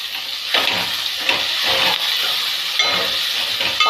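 Moong dal and ridge gourd frying in a pan make a close, continuous sizzle with rhythmic scraping strokes from stirring. The sound stays alone, with no voices.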